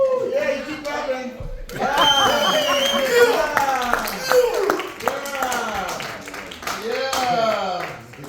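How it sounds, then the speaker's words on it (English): Audience clapping at a live Friday night artist showcase, a steady crowd applause with cheers and shouts, loud and close, with voices calling out over it throughout. "you keep clapping"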